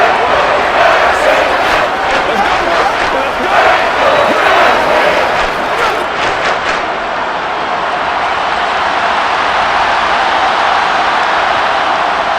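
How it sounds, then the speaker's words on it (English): Dense stadium crowd roar with applause in Madden NFL 23 during a simulated Giants versus Vikings wild card game, a steady loud wash of cheering that thins slightly near the end, with commentary faintly underneath. "How about some applause for the defense there?"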